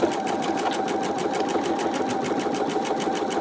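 An embroidery machine stitches out a quilt held in a magnetic hoop, a steady, fast, even needle rhythm running loud and close without a break, and nobody speaks.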